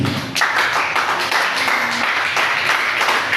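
Congregation at a Swahili church service clapping hands together, a dense steady wash of applause sustained throughout, fairly close and loud with no clear speech over it.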